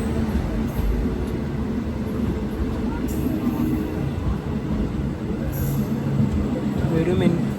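Malabar Express pulling in at platform 3 of Thiruvalla railway station, a steady heavy rumble of rolling stock and wheels with brief high squeals, voices and station chatter running underneath.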